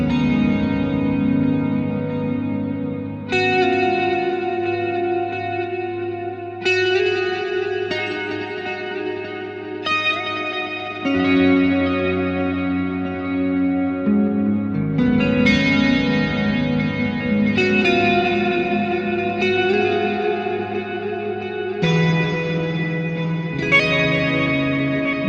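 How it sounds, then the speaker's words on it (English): Electric guitar played through a BOSS GX-100 processor with a stereo delay and two panning delays plus extra effects, sustained chords ringing with echoing repeats and reverb, changing every few seconds, clear and alone without talk. "I'm going to use a stereo delay and 2 panning delays, plus some extra effects"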